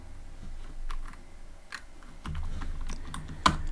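Typing on a computer keyboard while writing Python code, with a handful of soft, scattered key clicks and one sharper tap near the end over quiet room noise.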